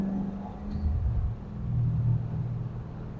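A flood-damaged 1967 Corvette with an LS3 engine gives off a steady low rumble while driving, the engine drone rising and falling slightly with no voices over it.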